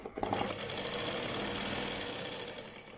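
A sewing machine runs fast and steadily while stitching a pocket onto ladies' trousers, a close rapid mechanical rattle for about three seconds with no talk.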